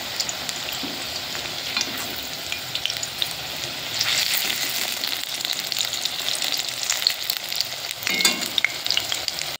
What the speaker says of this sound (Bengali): এবার বাকি বড়াগুলো আমি ভেজে নেব।